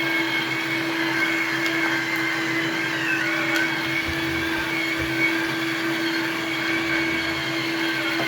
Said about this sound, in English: you can hear the cooling fan running on the one of these electric motors